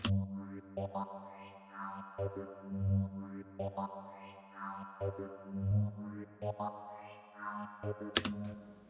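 A synthesizer plays repeating pulsing notes with a wobbling, modulated tone, rising and falling in volume in a steady rhythm.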